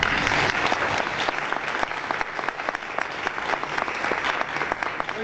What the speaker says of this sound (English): please, warm round of applause for Jason.